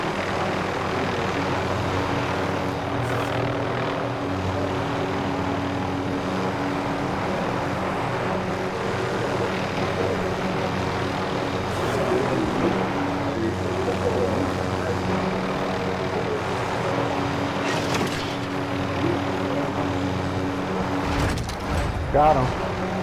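A helicopter in the Warzone video game drones steadily, a loud, continuous rotor and engine rumble, while players chatter over it throughout.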